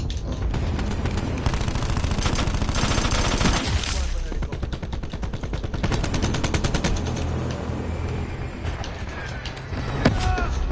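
Rapid, dense gunfire from a Call of Duty match fills the whole stretch, bursts of automatic shots running almost continuously and loudly with sharper cracks mixed in.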